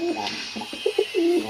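Pet fancy pigeons in a breeding loft give several soft, close coos, a few short notes then a longer drawn-out one, over faint background noise with no talk.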